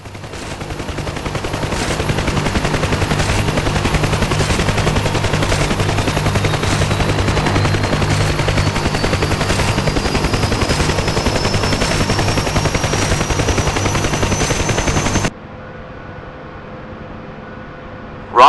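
Sustained rapid machine-gun fire from door gunners aboard a UH-1 Huey helicopter in DCS World, a dense loud chatter over rotor noise lasting about fifteen seconds, then cutting abruptly to a quiet cockpit hum.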